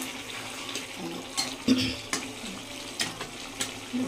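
Bhetki fish bones stirred and fried in a pan, with soft sizzling under irregular scrapes and clinks of a utensil, several sharper knocks spaced through the clip, and no talk.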